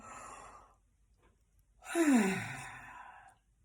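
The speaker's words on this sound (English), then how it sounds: "So we practice by a big yawn" A breathy inhale followed by a long, voiced yawn that slides downward in pitch and fades out, close and fairly quiet.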